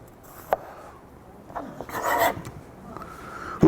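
A knife trims around the edge of a pepper, giving soft rasping cuts with a sharp tap near the start and a louder scraping stretch in the middle, close and fairly quiet with no talking.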